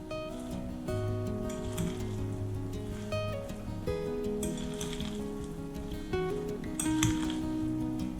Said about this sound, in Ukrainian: І вимішую салат.